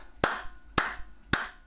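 Three sharp, evenly spaced hand claps ring out close and alone, each a crisp slap with a short decay.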